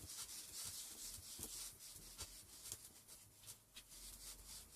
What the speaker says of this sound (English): let's try and rub this off before it settles in